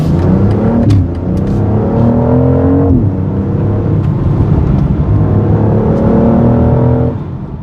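A 2025 BMW X3 M50 xDrive accelerates hard, its loud artificially enhanced engine note climbing through several gears with brief drops at each shift, heard from inside the car continuously and without talk.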